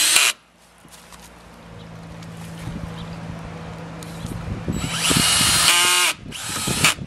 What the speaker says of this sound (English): I do have the drill backed off a little bit so we don't break the head of the screw off